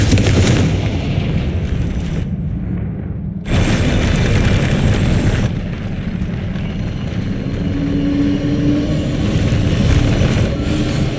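A Confringo fire spell explodes in the Hogwarts Legacy video game, with loud, dense booming blasts and a sustained roaring rumble. A short quieter gap breaks the barrage before the rumble resumes.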